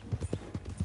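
Horse hooves clip-clop in Red Dead Redemption 2, a quick run of about five close, crisp hoof strikes in steady rhythm.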